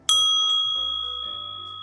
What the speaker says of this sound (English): Purify the air with a ringing bell.